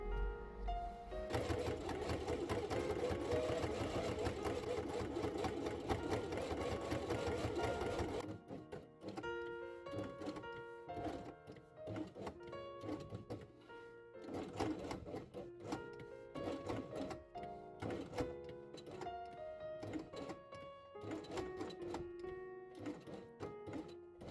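A sewing machine stitches felt pieces along their edges, first in a dense, continuous run, then in shorter stop-start bursts of rapid needle clatter, close and clear with no talk.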